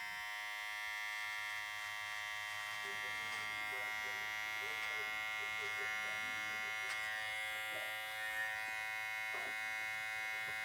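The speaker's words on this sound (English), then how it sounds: "take the clippers, open guard, and go up like a 1/2 inch" Electric hair clippers with an open guard buzz steadily and continuously through the stretch, cutting hair at close range, with faint talk underneath.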